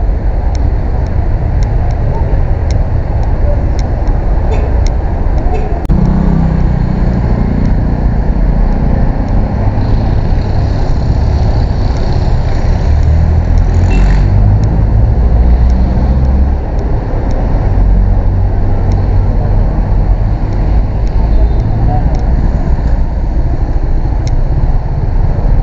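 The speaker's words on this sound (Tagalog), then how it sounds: "At sobrang traffic ngayon mga kaidol." Heavy road traffic in Bacolod City during the Christmas season, a steady loud roar of passing cars and motorcycles with low engine rumble throughout, no gaps.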